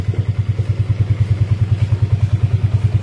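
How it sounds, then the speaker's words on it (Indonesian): A motorcycle starter on a weak battery cranks over and over in a fast, steady, labored rhythm without the engine catching, close and fairly loud. "Kita mau starter, dia seperti akinya tekor, jadi bunyi ngek-ngek tapi mesin nggak bakal hidup ya"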